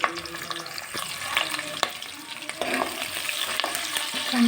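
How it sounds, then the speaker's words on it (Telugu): Finely chopped onion, green chili and curry leaves frying in oil for chicken curry, a continuous close sizzle with repeated ladle scrapes and stirring knocks throughout, no talking. "అలానే కరివేపాకు అలానే చిన్నగా తరిగిన ఆనియన్ పచ్చిమిర్చి వేసి బాగా మగ్గనివ్వాలి"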